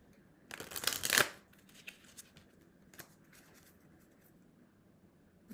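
Tarot cards being shuffled, one loud riffling burst near the start, then faint scattered card handling sounds in a quiet room.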